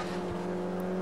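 Stock hatchback race cars at Cadwell Park in a 2012 Classic Stock Hatch round, heard as a steady, fairly loud engine drone for about a second with no voices.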